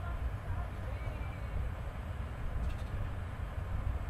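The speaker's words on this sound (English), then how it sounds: "Bear with me as we come to a stop and disembark the train" Inside a RENFE class 102 AVE high-speed train coming to a stop, a steady low rumble of rolling stock with a faint voice briefly over it.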